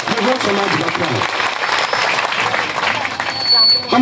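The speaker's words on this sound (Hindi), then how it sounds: "देखो छोटी सी बच्ची है, 3 या 4 साल की होगी, यह भी ताली बजा रही है" Applause from a crowd at a political rally, a little girl among those clapping; dense, steady clapping fills the scene for about four seconds, with some voices mixed in at the start.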